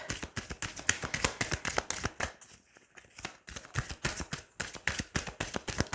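Tarot cards being cut and shuffled, with rapid crisp riffles and flicking slaps in a quick even rhythm, close and distinct, broken by a short pause midway before the shuffling resumes.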